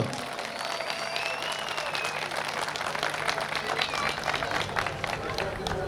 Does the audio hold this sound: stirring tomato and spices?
no